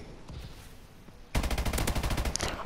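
Rapid automatic gunfire from a weapon in Call of Duty: Advanced Warfare bursts in after a quiet stretch, a loud, dense stream of closely spaced shots.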